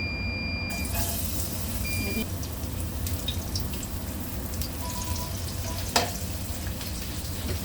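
Cooking oil sizzles and crackles in a hot wok while shrimp is being prepared, a steady soft frying hiss with faint clinks and one sharper pop near the end.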